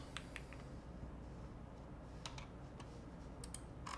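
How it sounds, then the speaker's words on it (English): Keys clatter in quick irregular bursts on a computer keyboard during a coding contest, with faint clicks over a low steady room hum, fairly quiet and without speech. "Oh, there's a lot of typing here."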